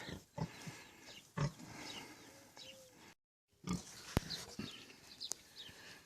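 Low grunts from Mangalica pigs come at irregular intervals, close by and fairly quiet, with a few sharp clicks and a brief gap of silence.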